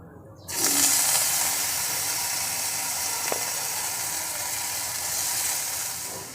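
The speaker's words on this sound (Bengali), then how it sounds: "এখন আমি এর মধ্যে দিয়ে দেব আদা আর রসুনের পেস্ট।" Ginger and garlic paste drops into hot oil in a wok with a sudden loud hiss, settling into a steady, close, crackling sizzle with no one talking.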